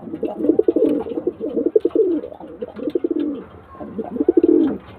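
Several pigeons of an old-generation Andhra flying breed coo in repeated rolling bursts, fairly close and steady, with short pauses between phrases and no talk over them.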